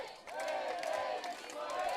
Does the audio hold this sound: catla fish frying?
no